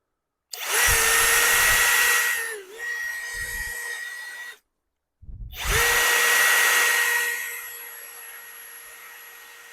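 A Grosser GCD 161KBT cordless drill driver rated at 160 Nm with a 13 mm chuck whines loudly as it drives into wood in two long bursts split by a brief pause, its pitch dipping under load.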